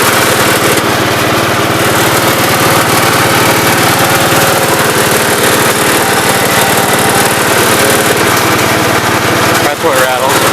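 A snow blower engine mounted on a lawn mower, started after sitting unused for months, runs loud and close with a steady droning roar throughout.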